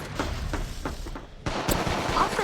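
Rapid gunfire bursts from the mobile video game Apex Legends Mobile, sharp cracks in quick clusters, close and loud, with a brief lull before another volley.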